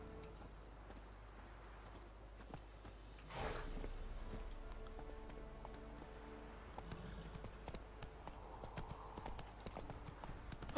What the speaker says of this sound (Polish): ale koń może biegać z przeciążonym Geraltem